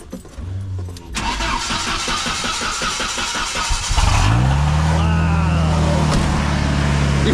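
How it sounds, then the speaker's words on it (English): An abandoned Jeep Comanche Chief pickup, left sitting in the woods, cranks over steadily for a few seconds before the engine catches and settles into a loud, close, rough running roar. "Let's see if it starts."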